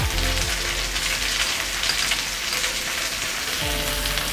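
Cut beans fry in a pan for a beans and dal curry, giving a steady, close sizzle with rain-like crackle and low scraping thuds from a spoon moving through the pan, with no voices.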